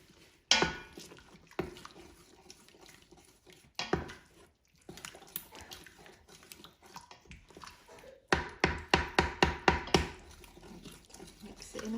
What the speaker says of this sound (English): Mix it in a bit, it's thickening up nicely now.